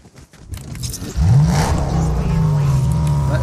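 A vehicle in the video game Fortnite starts up and drives, its engine rising into a steady, fairly loud hum that holds with slight pitch shifts after a quieter start with faint talk.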